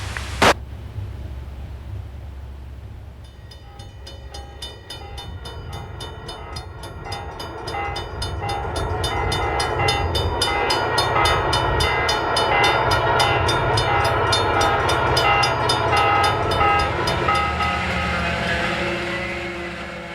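An Alaska Railroad freight train hauling trailers toward Fairbanks rumbles past at close range, its steady low roar of wheels and cars building and holding, with a sharp bang at the start and a long sustained horn tone threaded through the passage.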